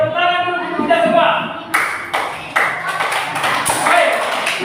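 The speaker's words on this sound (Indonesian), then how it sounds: "tepuk tangan dulu kita semua" A training class gives a short round of group clapping, uneven hand claps over a few seconds with a voice speaking through it.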